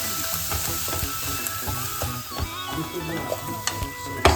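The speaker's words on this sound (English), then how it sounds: "Still gonna let it fry out a bit because we need this thing to cover this paneer so it looks better" Paneer tikka marinade frying in a pan at home, a close, bright crackling sizzle with scattered pops and small scraping clicks, steady throughout with no talking.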